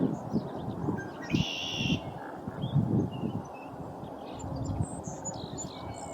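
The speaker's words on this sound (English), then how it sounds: "A flock of robins descended on the small woodlot." A flock of robins in a small spring woodlot gives scattered high chirps and calls over steady rustling and low background noise, moderately distant.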